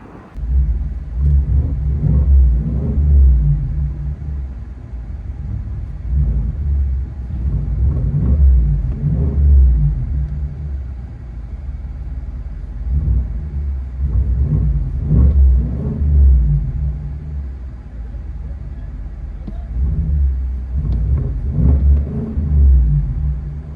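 Inside a 2023 Cadillac Escalade 600 with a 6.2 liter V8 and Corsa Xtreme muffler, resonator and rear delete and quad tips, the exhaust drones with a deep low rumble that swells repeatedly under acceleration while cruising.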